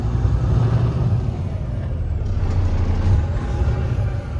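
A 2020 Kenworth W900L heavy-haul truck with a deleted X15 Cummins diesel idles close by, a deep, steady rumble running continuously without talk.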